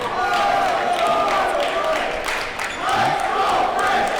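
Basketball crowd at a Frisch versus Heschel varsity boys game, a steady loud roar of cheering fans in a gym at the opening tip-off, with announcer voices talking over it.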